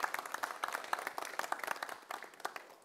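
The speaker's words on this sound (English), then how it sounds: "let's give one more round of applause for Madelaine and her talks" A room of listeners at a talk event claps for a speaker, a steady patter of many hands that stays fairly soft and even throughout.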